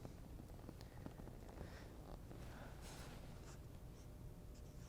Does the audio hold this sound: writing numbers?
yes